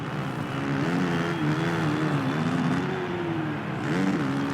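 Engine whine of Honda and KTM dirt bikes racing in a Supercross video game, a steady buzzing drone with pitch rising and falling as the bikes accelerate, loud and continuous throughout.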